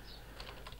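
Soft keystrokes on a computer keyboard as a folder name is typed, a brief quiet patter of a few quick taps close by.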